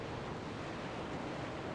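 Ocean waves lapping at a dock in the zombie survival video game Dying Light, a steady broadband wash of surf with no breaks, moderately quiet and continuous with no other sounds.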